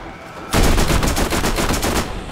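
Loud rapid automatic gunfire in Borderlands starts abruptly after a short quiet lead-in, then continues as a fast, even stream of shots to the end.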